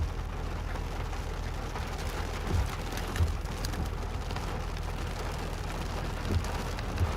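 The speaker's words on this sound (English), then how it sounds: "Might be getting some heavy rain." Heavy rain pours steadily during a storm chase in Wisconsin or Illinois, a dense continuous hiss of drops drumming on a surface, with occasional low thumps and no talk.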